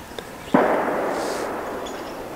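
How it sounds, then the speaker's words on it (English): A distant gunshot during Ohio deer gun season: one muffled outdoor crack followed by a long rolling echo that fades slowly across open country, faint against quiet surroundings. "I've since heard a few other shots, like two properties over"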